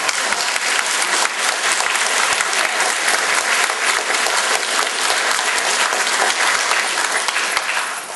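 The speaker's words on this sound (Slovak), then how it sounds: "zatleskajte ešte raz." A seated audience at a village book launch applauds loudly and steadily for several seconds, dense clapping that fades slightly at the end.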